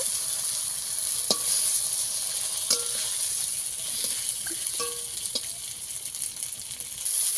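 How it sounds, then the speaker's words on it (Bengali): Steady sizzling of tomatoes frying in a pan, with occasional metallic scrapes and clinks as the pieces are turned. "টমেটোগুলো একটু উল্টে পাল্টে ভেজে নেব।"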